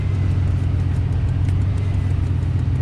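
Engine of a 1993 Chevy Blazer idling after a power steering pump replacement, a steady low rumble close by with no talk.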